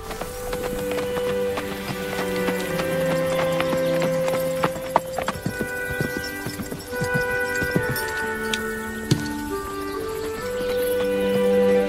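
Steady hooves clip-clopping at a walking pace over a busy background of music, continuing throughout with a few sharper knocks.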